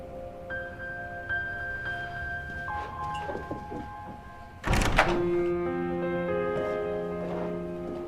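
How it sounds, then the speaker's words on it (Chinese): A door shuts with a single solid thump partway through an office drama scene, set against sustained background music. "把门关上。"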